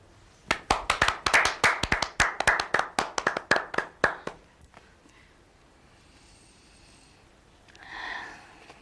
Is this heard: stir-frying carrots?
no